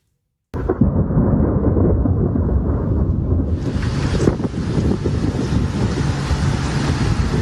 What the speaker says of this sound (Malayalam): മഴയ്ക്കൊപ്പം ചിലയിടങ്ങളിൽ പൊടിക്കാറ്റും ഇടിമിന്നലും എത്തിയിരുന്നു.